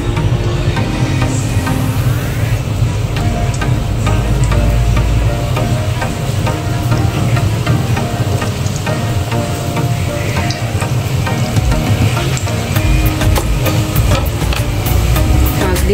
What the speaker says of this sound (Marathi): तूपही व्यवस्थित गरम झाले। आता आपण हळूहळू यात गुलाबजाम सोडू।